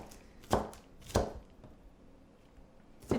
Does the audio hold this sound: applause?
no